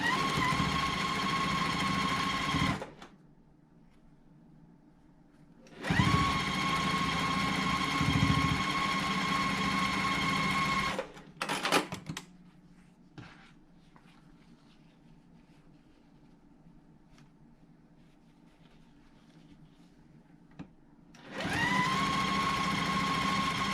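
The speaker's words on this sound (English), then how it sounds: "I can sew those rows together." A domestic sewing machine stitches quilt block rows together in steady whirring bursts, running about three seconds, then again for several seconds, with a brief rattle and quiet pauses between, and a final burst at the end.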